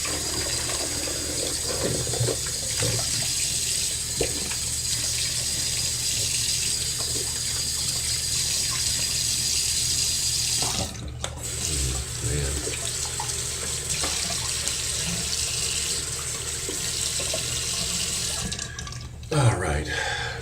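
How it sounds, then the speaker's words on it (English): Water drains out of a bathroom sink in a steady, close gurgling rush that continues for the whole stretch, with brief interruptions near the middle and end. "let the water out of my sink first"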